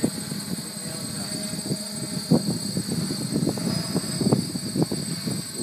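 A DJI 550 multi-rotor drone descends and lands itself in failsafe mode, a steady high-pitched motor whine over a rumbling, fluttering rotor wash that swells as it nears, with voices intermittently underneath.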